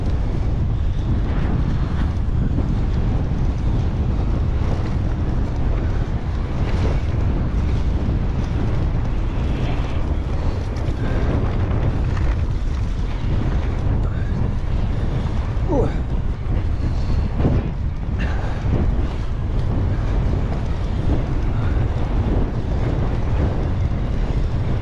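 Strong wind sweeps across an open hilltop on the downs near Barbury Castle, buffeting the microphone with a continuous loud, rough rumble and gusty surges that never let up.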